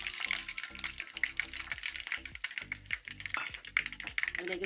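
Mustard seeds, dried red chilli and curry leaves frying in hot sesame oil, a dense continuous sizzle with crackling pops and the scrape of stirring throughout, close and fairly loud with no talk.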